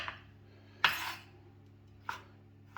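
A knife cutting stemmed tomatoes into slices for a tomato burrata pistou dish gives three distinct sharp clacks as the blade meets the board, the second the loudest, close and alone in a quiet kitchen.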